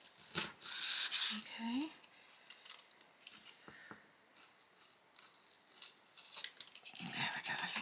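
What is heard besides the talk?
cutting out doll shoe material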